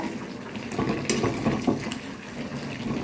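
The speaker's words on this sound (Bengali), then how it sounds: "ভালো করে কষাতে হবে মাংসটা" Mutton being sautéed and stirred in a pan for kosha, a soft sizzle with scattered scraping and wet stirring bursts, moderately close and fairly quiet.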